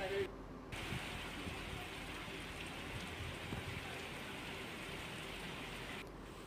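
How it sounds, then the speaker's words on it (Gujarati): Unseasonal rain falls in Bhanvad as a steady, dense hiss of drops on surfaces, continuous and fairly distant throughout. "ભાણવડમાં ગાજવીજ સાથે કમોસમી વરસાદ થયો"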